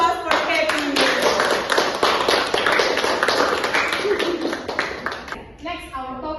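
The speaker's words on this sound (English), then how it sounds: "Okay, give applause for Teddy." Students in a classroom break into applause for a classmate, a dense burst of clapping that fills the room and then tapers off, with voices mixed in.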